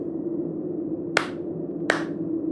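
Two sharp, separate handclaps about 0.7 seconds apart, crisp and moderately close, over a steady low hum in a narrated horror tale.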